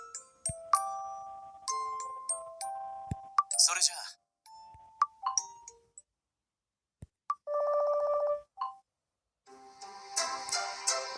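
Phone dialing tones and chimes from the game Obey Me! Nightbringer, a string of short beeps and pings with gaps, a sustained buzzing tone, then a cluster of rapid bright tones at the end.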